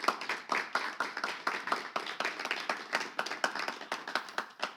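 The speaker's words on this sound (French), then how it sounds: "On fait une ovation pour le prouver." Studio audience applause for a French televised debate show, a dense steady patter of many hands clapping with sharp rhythmic claps standing out, moderately loud and continuous with no talk over it.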